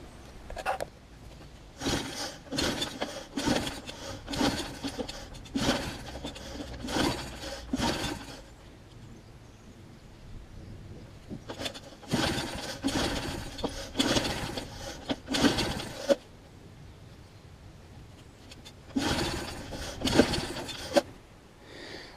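Repeated pulls on the starter cord of a classic Hayterette lawnmower, rasping bursts in three clusters separated by pauses, with no engine catching.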